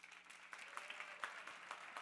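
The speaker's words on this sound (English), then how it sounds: "Actually clap if you really like LeBron James" Crowd applause, a dense wash of many hands clapping at once, steady and moderately loud for the whole stretch with no voices.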